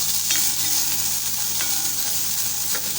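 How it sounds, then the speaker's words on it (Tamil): Dried red chilies and salt being stirred in a hot pan make a steady, close, hissing sizzle, with a few soft scraping strokes breaking through at intervals. "மிளகாயோட கலர் மாறாத அளவுக்கு கலந்து விட்டுக்கோங்க இதோட கூடவே நம்ம தேவையான அளவு உப்பையும் இந்த டைமில் சேர்த்துக்கலாம்"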